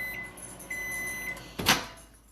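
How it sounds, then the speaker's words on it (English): A kitchen microwave oven sounds a few short, steady electronic beeps at low volume, followed by a brief clunk like its door or a cupboard. "I hear you, microwave."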